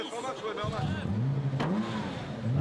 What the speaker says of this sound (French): Voilà, démarre la voiture.